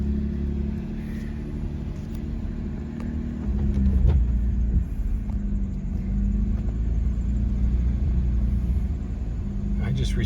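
A Jeep Gladiator rolls along a residential block, its engine a low steady rumble that swells around the middle as it accelerates, with faint road noise and some talking over it.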